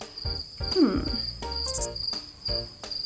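A cricket chirps in a steady, high-pitched trill, with soft thumps and a short whooshing sweep mixed in.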